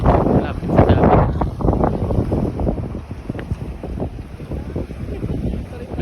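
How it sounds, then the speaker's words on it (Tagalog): Strong wind buffets the microphone near the sea with boats moored close by, a loud roaring gusty wash of waves and wind that eases and swells. "Medyo malakas yung alon."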